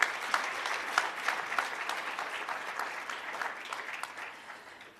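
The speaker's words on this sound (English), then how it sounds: "another round of applause" Conference attendees at a health workforce investment forum give a round of applause, a broad wash of clapping that starts strong and gradually tapers off.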